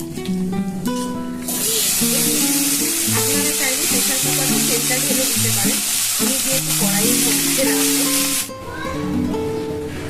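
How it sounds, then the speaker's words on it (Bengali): Khichuri made with parboiled rice and two kinds of dal sizzles loudly in hot oil with dry chillies and cumin, a steady bright frying hiss that lasts about seven seconds, with stirring clatter and faint tones at the start and end. "তেলের মধ্যে শুকনো লঙ্কা সাদা জিরে একটুখানি দিয়ে খিচুড়িটা আমি ছকে দিলাম"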